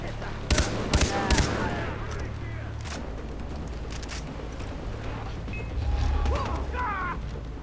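Far Cry 3 gunfire: a few sharp, close shots in quick succession, then scattered fainter reports and clattering over a low game rumble, with a voice talking now and then.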